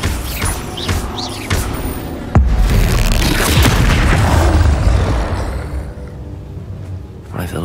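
The Bombarda spell in Hogwarts Legacy goes off with a loud booming explosion and a rumbling blast, followed by crackling debris. A voice shouts the spell name at the start, and game effects clutter the mix.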